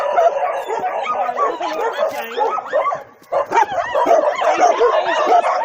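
Many dogs at a shelter in Montenegro bark, yip and whimper at once in a continuous chorus, loud and close, with a brief lull midway.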